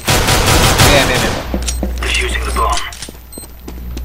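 Rapid gunfire bursts in the video game CS:GO, loud and dense for the first second and a half, then sparse clicks and footsteps while players talk.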